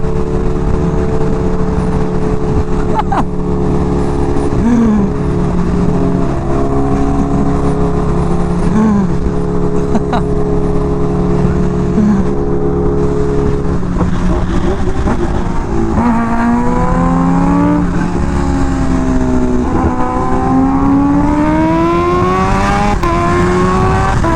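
A Nissan GT-R sports car engine revs loudly and close, a sustained roar with rising and falling pitch sweeps as it accelerates, heard over road and wind noise.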